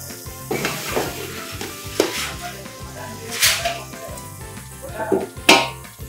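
Ginger garlic paste sizzles and fries in a hot pan for mushroom biryani, a steady crackle broken by repeated scraping and stirring strokes of a utensil against the metal, close and fairly loud with no talk.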